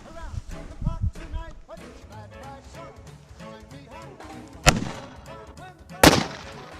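A P100 firecracker wrapped in foil explodes outdoors: two sharp, loud bangs a little over a second apart follow a stretch of people talking.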